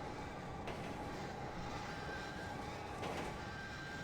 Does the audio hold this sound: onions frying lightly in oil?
no